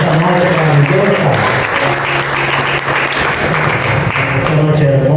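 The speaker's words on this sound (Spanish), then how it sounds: "Le doy un aplauso al Señor Jesucristo en esta noche maravillosa" Loud, dense applause from a congregation at an evening church service in honour of Jesus Christ, steady clapping close and full with faint voices and tonal music mixed underneath.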